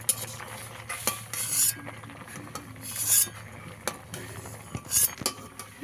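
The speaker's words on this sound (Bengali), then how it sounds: "প্রথমে আমি আলুগুলো তুলে নেব।" Boiled potatoes lifted out of a cooking pot with a metal utensil, with jackfruit seeds still boiling, giving scattered clinks and scrapes against the pot in a few close bursts.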